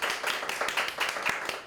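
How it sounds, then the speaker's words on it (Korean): A small audience at a bookstore book talk claps to welcome an author, giving brisk, fairly close applause from a modest crowd without voices. "이 자리에 이 책을 쓰신 저자이신 정수윤 작가님을 큰 박수로 맞이해 주시면 감사하겠습니다"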